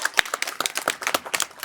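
Scattered, uneven hand claps from a small group, a few dozen distinct sharp slaps, loud and close, at a school art and science exhibition.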